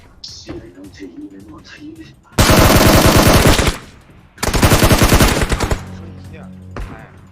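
Automatic gunfire in the mobile battle royale game PUBG Mobile: two long, loud sustained bursts of rapid shots with a pause between, while players talk excitedly before and after.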